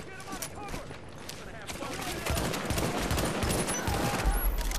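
Enemy pistol gunfire in the video game The Division's Dark Zone, a fast run of sharp shots layered into dense in-game combat noise, getting louder and heavier in the second half.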